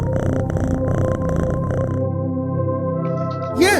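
A house cat purrs in a steady, rumbling pulse close by for about two seconds, then the purr smooths into a softer drone before a brief, sharp chirp-like meow breaks in at the end.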